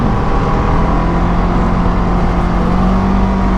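A Can-Am Ryker 600 three-wheel motorcycle under way, its engine a steady, loud, close drone with a continuous low hum and no break, heard alone without talk.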